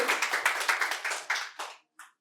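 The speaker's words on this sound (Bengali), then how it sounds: "ওর জন্য একটা জোরে হাততালি" Applause for a quiz winner at a medical college event in Santiniketan, a short burst of brisk close hand claps at a quick rhythm that fades out after under two seconds, with one last stray clap.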